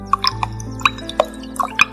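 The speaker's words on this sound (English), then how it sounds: "He put them one by one into the pot." Stones dropped one by one into a pot of water in a children's story: a series of light plops and drips, about seven small splashes at uneven intervals over a faint steady background tone.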